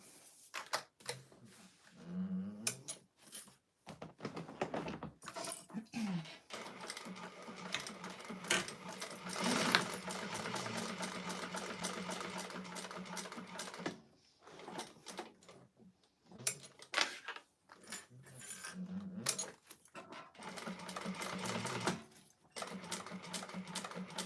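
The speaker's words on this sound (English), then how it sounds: "we're going to do an 1/8 of an inch top stitch all the way around" Sewing machine topstitching an eighth-inch seam around a clutch wallet, running in long steady whirring bursts interrupted by short pauses and small clicks as the fabric is turned, close and fairly quiet.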